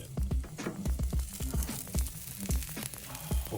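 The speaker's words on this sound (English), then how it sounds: "Oh, look at that sizzle." A wagyu deckle steak sizzles in a hot pan just after being flipped, a steady crackling hiss broken by irregular pops and low thumps, close and moderately loud with no talking.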